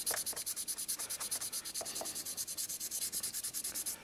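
Rapid, steady back-and-forth sanding strokes rub across the body of a 1/24 Ebbro Citroen DS 19 scale model kit, close and regular with about six strokes per second and no talking.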